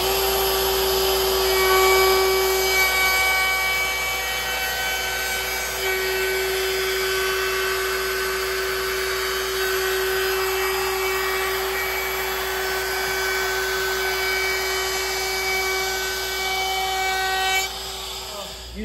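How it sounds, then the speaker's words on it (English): A DeWalt DWP611 compact router cutting deeper into a wooden sign, a loud steady high-pitched whine with harmonic tones running continuously for about nineteen seconds, close and without speech. "I'm going a little deeper on the router"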